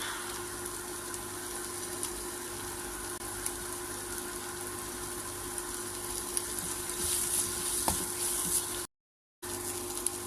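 Singhi fish fry in hot oil, giving a steady, close, even sizzle that runs without a break until a short cut near the end, with no voices over it.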